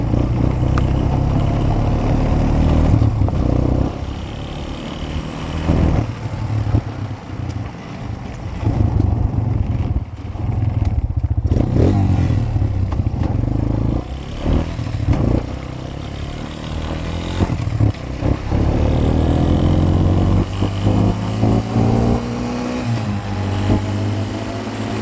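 A Suzuki LTZ 250 quad engine runs steadily and loud throughout, riding through the woods at night, its note rising and falling with the throttle and briefly dipping mid-way.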